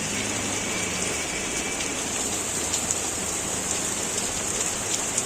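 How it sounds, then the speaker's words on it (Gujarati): Heavy rain pours down in a steady, dense roar, a constant hiss of drops hitting surfaces with no pauses, loud and close, with no voices. "બાકી વરસાદ જોવો તમે."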